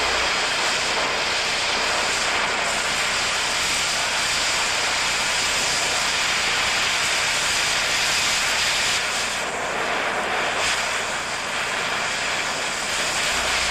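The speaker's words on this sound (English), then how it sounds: "You can cut just above the weld, then start slicing it off." An oxy-acetylene torch cuts through a steel T-joint just above the weld, giving a loud, continuous roaring hiss that holds steady throughout with no voices.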